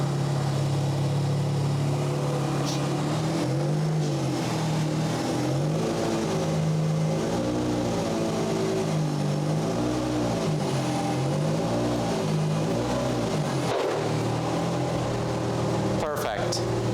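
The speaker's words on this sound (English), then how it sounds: "Now with the help of a friend, lead the car in right on the ramps." A car creeps slowly up onto ramps in a home garage during an oil change, its engine idling and rising in low steady revs throughout, with a voice talking over it and a few sharp knocks near the end.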